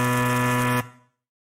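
A quiz show buzzer sounds once, a loud, steady electronic tone held for nearly a second before cutting off sharply, with a brief fading tail and then silence.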